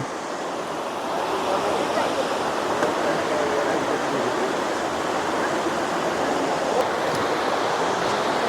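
Continuous rushing roar of flowing river water, loud and steady throughout with no break.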